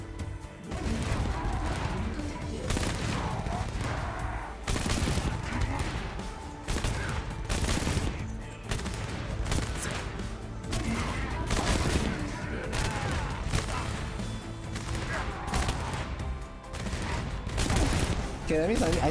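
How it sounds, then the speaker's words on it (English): Gun towers firing in the Arknights: Endfield game, a dense, continuous barrage of gunfire and impacts with crashes and booms under a talking voice. "The gun towers are not shooting fast enough."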